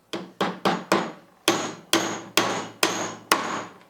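Drywall nails struck with a survival axe-hammer tool, nine sharp, loud wooden-sounding blows landing at a steady, slightly uneven rhythm, close and clear with no talking.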